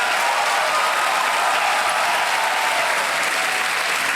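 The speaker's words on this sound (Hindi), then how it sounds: "तालियां बजती रहे देवियों सज्जनों।" A TV game show studio audience claps continuously and loudly, an even, sustained wave of applause with no breaks.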